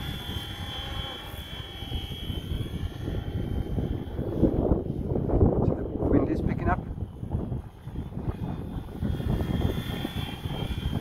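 Flywing FW450 V2.5 RC helicopter, converted from belt to gear drive, flying outdoors in gusty wind, its steady motor and rotor whine holding throughout with wind buffeting, while a person talks over it.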